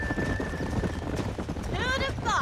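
Horse hooves clip-clopping in the video game Red Dead Redemption, a quick, moderately close run of hoof beats under game dialogue, ending with a short whinny.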